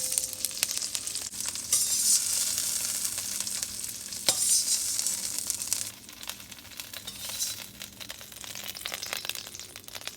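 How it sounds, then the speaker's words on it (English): Shrimp frying in a pan for an Asian shrimp cauliflower rice dish, a steady close hiss of sizzling with stirring scrapes, loudest early and easing slightly toward the end. "I think our shrimp are done. They only cook just a few minutes."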